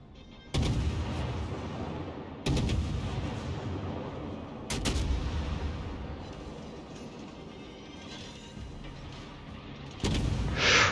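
Naval guns firing explosive shells in World of Warships: four heavy, booming salvos spaced a few seconds apart, each with a long rumbling tail, loud and close with no talking.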